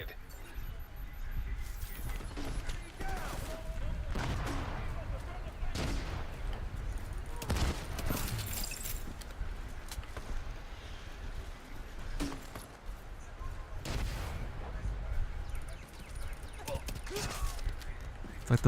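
Scattered gunshots and short bursts of fire crack through a noisy PC video game battle, with several sharp shots spread irregularly over a steady rumbling background.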